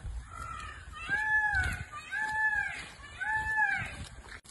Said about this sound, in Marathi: दादा इथे मोराचा आवाज येत आहे.